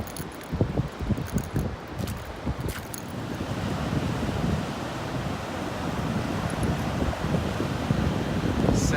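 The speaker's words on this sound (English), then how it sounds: "The sound that's coming off the ocean right now is pretty crazy." Pacific Ocean surf on the Olympic National Park coast roars steadily and grows louder, mixed with gusty wind buffeting the microphone and a few early scraping knocks.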